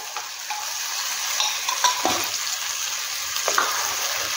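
Tomato sauce from two medium tomatoes sizzles in a pan while being stirred, with soft scraping strokes and a few sharper clinks over a steady fry.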